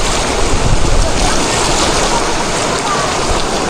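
Strong current of a river rushing past, a loud, dense, unbroken wash of flowing water close by, steady throughout.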